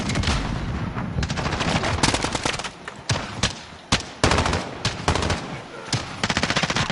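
Rapid automatic gunfire from a PS4 shooter video game, dense bursts and sharp individual shots crackling almost continuously with brief gaps, loud and close, while players talk faintly in the background.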